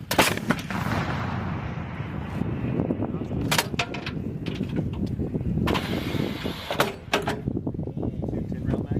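Marine artillery fires during the Rolling Thunder military exercise: several loud, sharp booming blasts at irregular intervals over a constant rumble, with voices shouting amid the noise.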